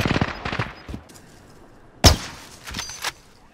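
Shots ring out in a first-person video game shooter, a burst of rapid reports at the start and a sharp loud crack near the two-second mark, then a few fainter shots, with no talking.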